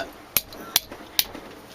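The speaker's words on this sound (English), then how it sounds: "Take Mr. Hammer here and" Three sharp, evenly spaced hammer blows ring out close by, knocking a metal part flat on a block while modifying a late-model Mopar distributor, each crisp strike standing alone with quiet between.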